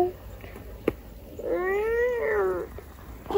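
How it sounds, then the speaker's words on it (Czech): Close, single drawn-out cat meow lasting about a second, preceded by a sharp tap and soft household background noise. "Kočičku jste našli."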